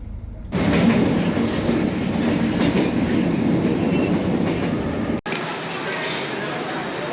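Train arriving at Da Nang railway station in Vietnam, a loud steady rumble with rhythmic clickety-clack of wheels on the rails, heard close, with a brief cut near the end.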